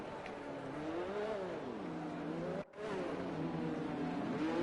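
Formula 2 race cars in a racing video game at Spa roll to the grid warming their tyres, engine tones rising and dipping with a brief cut in the middle, fairly faint and continuous.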